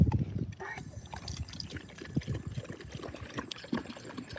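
Water is poured into a bowl for a Rottweiler, a close trickling and splashing stream that lasts several seconds.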